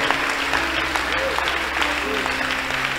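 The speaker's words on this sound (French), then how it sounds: "Est-ce que quelqu'un peut applaudir?" A congregation claps together during a prayer line testimony service, a steady wash of applause with a low sustained musical tone underneath.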